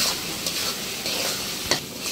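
Spice masala fries in a pan with a steady close sizzle, punctuated by a few spoon scrapes and stirring bumps against the metal; no one speaks.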